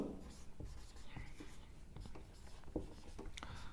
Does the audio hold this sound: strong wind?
no